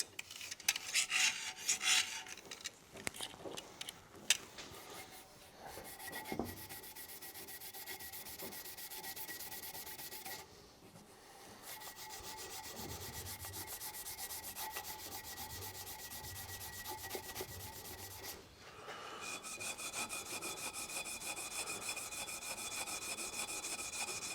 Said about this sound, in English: I'm cleaning the gasket surface on the diff cover to get it ready to go back together